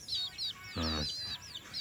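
Red junglefowl chicks peep close by in quick, high, wavering calls that repeat several times, broken midway by a short lower, harsher cluck-like call.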